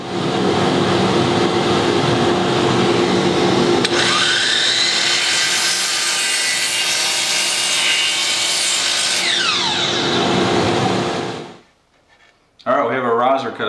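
A miter saw cuts through a wooden stair riser in one long, loud continuous pass lasting about ten seconds, then spins down, followed by a brief burst of handling noise.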